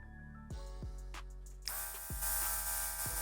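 An airbrush compressor runs with a steady whine and harmonic hum, broken by a few short clicks as the trigger is worked, then a louder hiss of paint mist spraying toward the end, with no talking.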